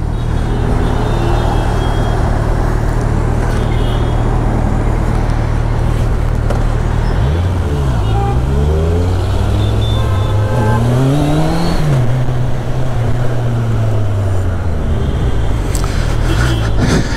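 Busy city road traffic in Pune, India: a loud, close engine drone with vehicles accelerating and shifting gears, rising and falling engine pitches overlapping, no talking.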